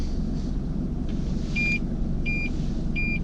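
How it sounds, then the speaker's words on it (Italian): Three short electronic beeps repeat at a steady pace over the low rumble of a Toyota 4x4 engine, fairly close. "Questo che sentite è l'allarme"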